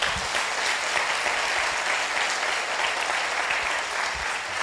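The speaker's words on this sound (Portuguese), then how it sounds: "Dê um aplauso ao Senhor." Steady applause from a church congregation fills the space, dense and continuous with no gaps, sustained at an even loudness throughout.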